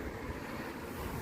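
Strong wind roars steadily into the microphone, a dense rushing noise with a surf-like wash and no voices.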